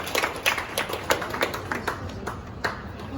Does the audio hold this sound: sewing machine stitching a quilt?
no